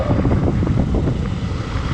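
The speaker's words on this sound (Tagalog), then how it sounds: "hinahampas na tayo ng malakas na hangin" Strong wind buffets the microphone with a continuous loud roar and rumble that does not let up.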